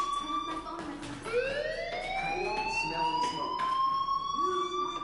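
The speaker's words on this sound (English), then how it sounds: "Hey, do you hear that fire alarm?" A fire alarm in a PS4 video game sounds as a continuous, loud, rising electronic wail that holds steady for the whole stretch, with no talk over it.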